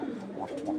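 Giribaz pigeons give a short, low, warbling coo close by, a single brief phrase with no talk over it.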